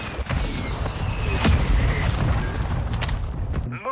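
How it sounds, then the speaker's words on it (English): Mortar strike explosions in Warzone 2.0 rumble in a continuous heavy boom, deep low thuds rolling together loudly with scattered crackling debris on top. "Mortar strike inbound."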